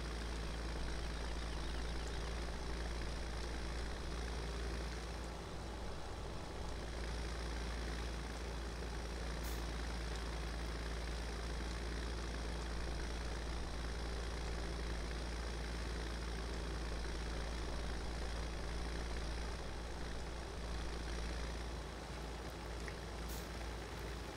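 A tractor pulling a baler in a farming video game drones with a steady, loud, low engine hum that holds unchanged throughout.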